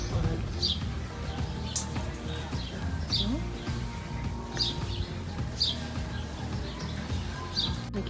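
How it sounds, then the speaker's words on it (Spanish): Birds chirp with short, repeated high calls at regular intervals at an adobe building, fairly faint over a low steady background hum while someone speaks. "Escuchen los pájaros."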